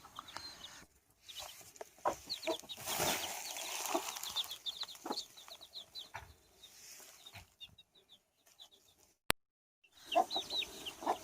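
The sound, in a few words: aseel hen clucking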